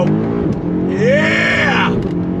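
A 2022 BMW M5 CS engine accelerates hard in track mode, a loud close rising roar with a clear pitch sweep upward mid-run, engine noise dominant throughout with a voice briefly audible.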